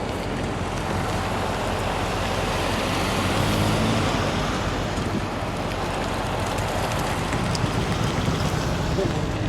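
Traffic rolls along a road near a crash site, a continuous rushing wash of passing cars that swells slightly midway and stays steady and fairly loud, with no clear speech.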